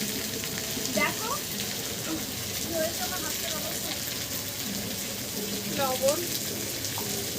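Spices, ginger-garlic paste and onion frying in a pan for a dish of rohu fish and yam, a steady broad sizzle throughout with a few stirring scrapes, while someone talks over it.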